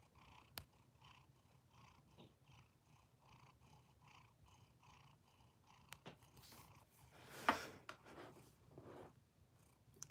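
A cat purring quietly close by, a soft steady rumble with faint rhythmic pulses, broken by a few brief scratchy handling rustles and clicks.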